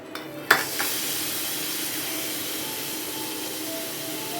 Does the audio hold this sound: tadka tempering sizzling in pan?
yes